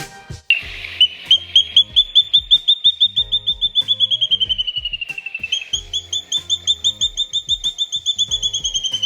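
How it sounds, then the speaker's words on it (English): Rosy-faced lovebirds at a botanical garden in Windhoek, Namibia, giving a rapid run of sharp, high chirps in steady rhythm, close and clear over faint background clatter. "Rosy-faced lovebirds are a delight to the eye. They are cheerful, affectionate, and very social."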